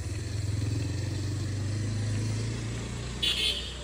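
A motor vehicle drives past on a road with a steady low engine drone that rises and then fades, continuous throughout with no voices.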